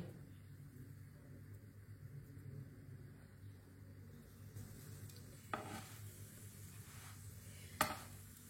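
A breakfast dish frying in an oiled pan after being flipped to cook the other side, a faint continuous sizzle with a couple of sharp utensil clicks near the end.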